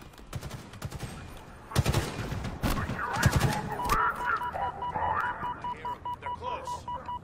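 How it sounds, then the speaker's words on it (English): Gunfire in the video game Halo Infinite during a pillar assault, with bursts of rapid automatic shots early on, then steady repeating beeps and game effects. "I'm shooting at them right now"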